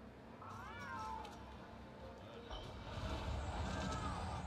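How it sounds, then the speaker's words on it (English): A cat companion in the Monster Hunter video game meows a couple of times, with rising and falling cries early on and again near the end, over a steady wash of game ambience and music. "All right, Charles, your cat's gonna go get me stuff."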